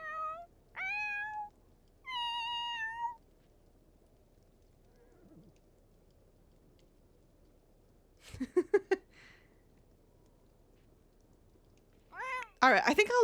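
A cat in a video game meows repeatedly in separate, clear, drawn-out cries, with a horse-like neigh and further cries later against a quiet background.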